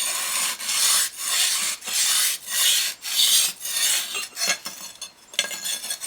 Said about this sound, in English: sharpening the bottom side, which is supposed to be the flat side